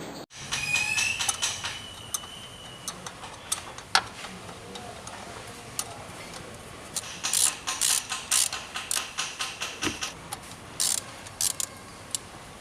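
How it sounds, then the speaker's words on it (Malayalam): A ratchet wrench loosens the stabilizer link nut on a Maruti Suzuki Dzire during shock absorber replacement in a garage, with scattered metallic clanks and then a run of quick rhythmic ratchet clicks, close and fairly loud. "സ്റ്റെബിലൈസർ ലിങ്കിൻ്റെ നെറ്റ് ലൂസൺ ചെയ്യാം."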